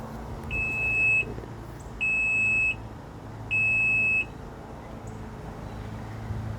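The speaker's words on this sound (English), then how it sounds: "well, that was 4 beeps" Three evenly spaced high electronic warning beeps, each lasting about half a second, sound from a 2006 bass boat with a 150 HP Optimax outboard after fuel/water separator work, set against a low steady background hum.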